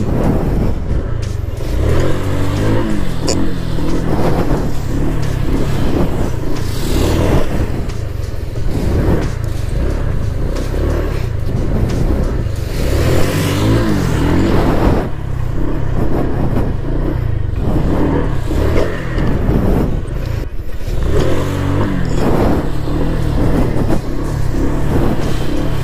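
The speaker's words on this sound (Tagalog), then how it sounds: "nakita nyo kung paano tsaka ano yung slow wheelie" Stock motorcycle doing a slow wheelie: a loud, close engine held at steady high revs throughout, with repeated swells and dips in throttle and no talk over it.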